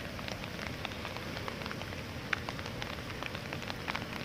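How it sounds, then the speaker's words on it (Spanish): Steady rain falls across the city of Cali, Colombia, in the evening, a constant dense hiss of drops with scattered sharper patters on surfaces, fairly faint and with no voices. "Sigue lloviendo pues en la ciudad de Cali,"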